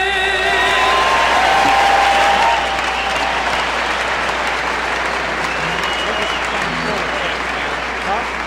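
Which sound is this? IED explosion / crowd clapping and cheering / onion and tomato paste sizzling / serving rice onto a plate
crowd clapping and cheering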